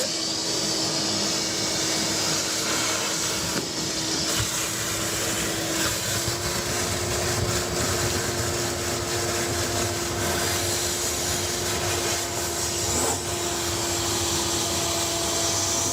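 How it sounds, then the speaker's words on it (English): A vacuum drones loudly and continuously at close range while it sucks out the drain pump of a GE top-load washer, with a steady whine over a rushing airflow. "now we're gonna hit the vacuum here"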